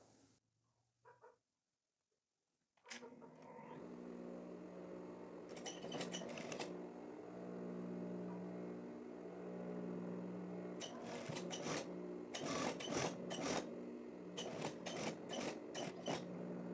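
A sewing machine stitches a seam fastening the collar band to the collar of a plaid women's shirt, starting after a short quiet stretch and running steadily with a low hum and bursts of faster needle clatter, fairly quiet.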